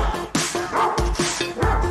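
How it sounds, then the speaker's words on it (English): A big, angry dog barking loudly and repeatedly in quick, rough bursts, close and aggressive, with yips mixed in. "I have a angry big dog. He's really loud and really mean."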